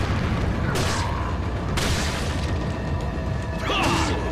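Dynamite blasts in the Resident Evil 4 video game, several loud booming explosions with crashing bursts spread over a few seconds, one at the start and others later, with gunfire-like impacts.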